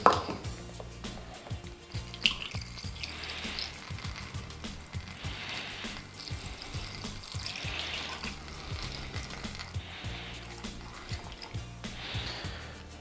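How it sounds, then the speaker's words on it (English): Vinegar poured into a jar packed with peppers and garlic for a Southern pepper sauce, giving a steady liquid pour and trickle with soft splashing and a few light clinks, no talk. "Now let's go ahead and we'll add the vinegar."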